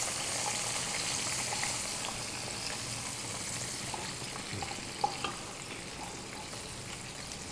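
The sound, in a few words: chopped tomatoes frying and being stirred in pan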